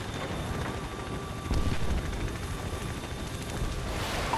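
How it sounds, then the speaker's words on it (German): Helicopters approaching in the Call of Duty Ghosts video game: a steady low rotor rumble with broadband wind-like noise, growing slightly louder partway through and holding, with no talk. "Hubschrauber nähern sich."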